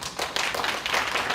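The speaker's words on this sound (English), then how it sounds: "let's please welcome Mr. Clarence Davis with a big round of applause" A big round of applause from an audience at a career lecture on simultaneous interpreting, steady dense clapping throughout, fairly loud and close, with no talk over it.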